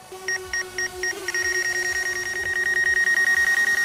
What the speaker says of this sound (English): We hear the beeps this time.